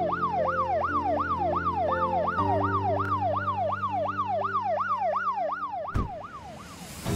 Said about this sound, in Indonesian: Segera meluncur untuk emergensi, ambulans meluncur ke Gandhuman.